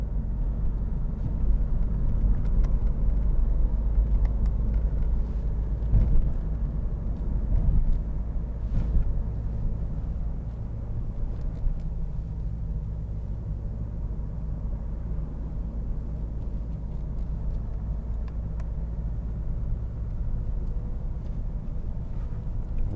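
A 2010 Nissan Qashqai 1.5 dCi diesel hatchback cruising onto a motorway, heard from inside as a steady low engine and road rumble that holds constant throughout with no talking.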